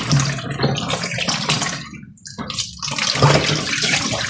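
Water sloshes and splashes in a basin as herbs are washed by hand, loud close swishing in bursts with a brief lull midway, no speech.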